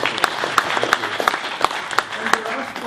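An audience claps at a keynote at a Steem meetup in Johannesburg, scattered individual claps from a modest crowd with a voice talking over them.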